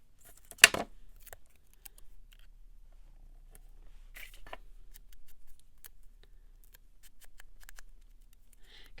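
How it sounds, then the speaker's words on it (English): Scissors make one sharp, close snip, followed by faint scattered rustles and small clicks in a quiet room. "We're gonna cut it because it's too long."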